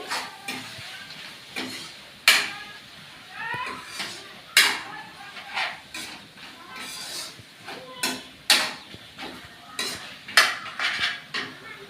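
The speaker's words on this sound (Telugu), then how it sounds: "ఓన్లీ ముక్క తిప్పడం కోసం కొద్దిగా సాల్ట్ వేసాం ఇది బాగా వేయించుకోవాలి" Mutton pieces fry with a pinch of salt while a spoon scrapes and knocks against the pan in irregular close strokes, a light sizzle underneath and a voice speaking briefly.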